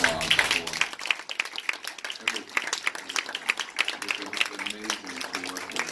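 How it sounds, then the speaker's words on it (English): Audience clapping fills a film festival Q&A at Tribeca as filmmakers and patients are honoured, brisk continuous applause with voices audible over it. "give them a round of applause"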